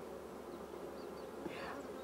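Honey bees buzz around an open hive in a garden, a steady soft hum with individual bees droning past close by, no talk.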